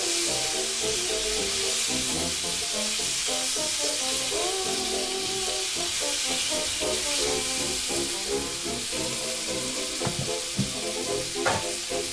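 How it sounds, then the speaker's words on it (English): Bacon sizzles and fries steadily on a 109-year-old kitchen range, a dense, close crackling hiss that runs unbroken throughout with no talking. "while that bacon cooks, I'm going to go ahead and boil some water for some tea too."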